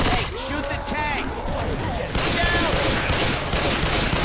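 Rapid bursts of gunfire aimed at a Tank in the co-op zombie shooter Left 4 Dead 2, a dense continuous barrage with echoing booms, heard loud alongside in-game voices and shouting.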